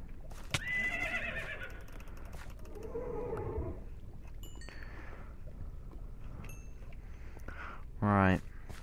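A horse in the Minecraft video game gives a short whinny near the end, after quieter game sounds and a person talking over the gameplay.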